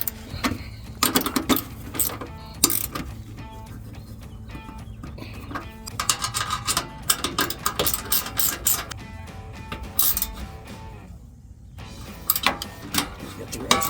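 Ratchet wrench clicking as it tightens bolts with an extension while running boards are fitted to a 2019-2024 Chevrolet Silverado 1500, with repeated short bursts of ratcheting under a busy background mix.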